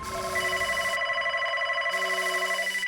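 Telephone ringing indoors in a household drama scene: two bursts of a bright electronic ring, the first about a second long, a short gap, then the second, loud and alone with no talk.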